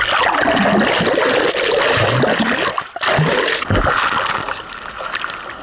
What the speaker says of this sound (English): Okay, I'll take a swim, if you don't mind.